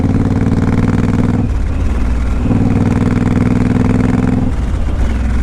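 Big-engined 2014 Suzuki M109R Boss motorcycle running loud and close, a deep throbbing V-twin rumble with two short blips of revving before it settles back to a steady, heavy idle.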